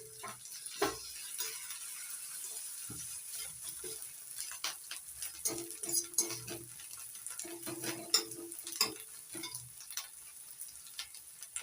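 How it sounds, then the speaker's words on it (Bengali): Chopped onion, ginger, garlic and chilli frying in a pan for veg manchurian, with a soft sizzle broken by repeated scraping stirs and clinks of a spoon against the pan, close and fairly quiet. "একটু ভাজা ভাজা করে নিচ্ছি"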